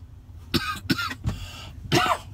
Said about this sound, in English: I don't like coughing on the video.